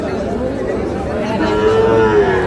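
Cattle moo at a rural livestock market selling Sahiwal bull calves, with a long drawn-out low call rising clearly over the steady murmur of the crowd.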